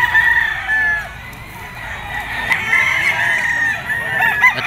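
Gilmore stag rooster with a straight comb crowing several times at close range, shrill drawn-out calls rising above a busy background of other fowl clucking.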